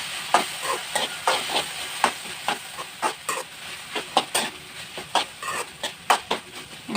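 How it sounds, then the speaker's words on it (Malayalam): Okra with added coconut being stirred in a frying pan, a series of sharp, irregular scraping strokes over a soft sizzle, close and fairly loud. "നമുക്ക് വെണ്ടയ്ക്കയിലേക്കുള്ള തേങ്ങ ചേർക്കാം കേട്ടോ. ഇന്ന് ഇളക്കി കൊടുക്കാം കേട്ടോ."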